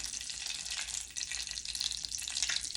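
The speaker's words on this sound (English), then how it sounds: "Now I'm obligated to keep frying fish on screen until it looks half decent" Breaded fish frying in a pan at a home breakfast stove, giving a steady close crackling sizzle throughout with no talk.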